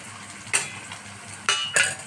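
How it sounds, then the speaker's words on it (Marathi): Spices such as turmeric, salt, pav bhaji masala, kasuri methi and red chilli powder being stirred into pav bhaji in a pan, three quick scraping strokes of a spoon against metal over a quiet sizzle, close and alone. "ते चांगल्यापैकी हलवून घेऊया"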